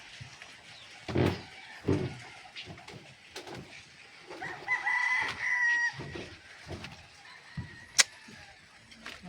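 Wet chickens cluck and call intermittently at moderate distance in rainy weather, with a rooster-like cry rising midway and a sharp click near the end.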